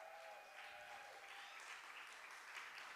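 Audience applause at a keynote event, a steady wash of clapping lasting throughout, moderately distant and fairly quiet, with no talk over it.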